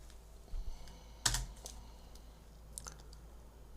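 Computer keyboard keys are tapped while a node name is typed in Houdini software, giving a few sparse, close clicks with one sharper stroke in the middle over a quiet background hum.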